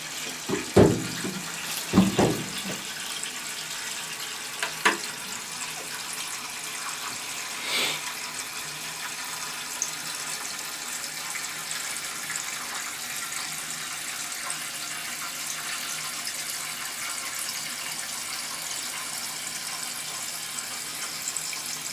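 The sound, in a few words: toilet flushing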